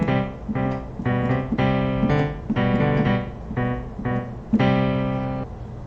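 Piano playing a Mozart minuet with a bass counter melody in the left hand, steady rhythmic notes and chords close and clear, no talk.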